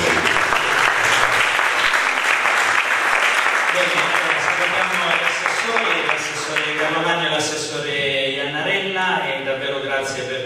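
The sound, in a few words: audience applause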